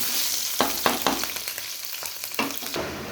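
Chopped onion and green chili sizzle in hot oil with whole cumin seeds, a loud continuous crackle broken by a few sharp stirring scrapes.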